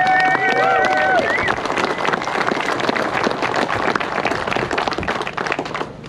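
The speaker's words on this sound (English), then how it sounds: "So if you please give all of our sponsors a huge big round of applause" A crowd at an airgun competition event applauds the sponsors, a loud, dense wash of clapping with some cheering that runs steadily throughout, a brief whistle-like tone near the start.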